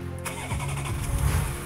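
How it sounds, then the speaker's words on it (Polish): A Porsche engine starts up after a rear-axle air suspension module install, with a brief cranking burst settling into a steady low idle rumble, close and alone. "Obniżaj pojazd do momentu, aż koła zetkną się z podłożem i uruchom silnik."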